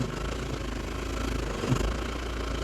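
A new 2024 farm tractor idles nearby with a steady, even engine drone throughout, loud and continuous, with no speech.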